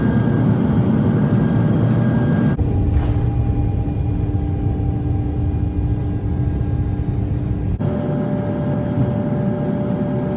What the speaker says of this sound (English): Hear the engines powering up as this Airbus A350-900 powers up for takeoff from Ho Chi Minh International onward to Singapore.